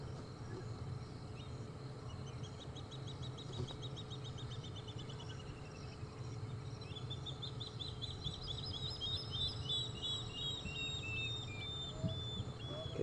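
Spotted thick-knees call at dusk on an African safari drive, rapid repeated piping series rising and falling in the distance, faint over a low hum and insect-like background.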